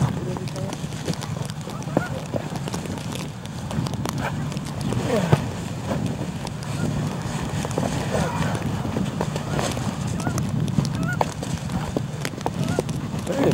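Geese calling in a big flock, a dense, continuous wash of overlapping honks carrying on throughout, with people talking over the flock noise.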